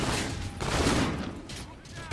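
Gunfire from Call of Duty: Infinite Warfare multiplayer beta, a dense continuous burst of shots lasting about two seconds, loud and close.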